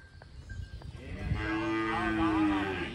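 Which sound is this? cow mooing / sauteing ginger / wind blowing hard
cow mooing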